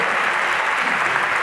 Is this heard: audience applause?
yes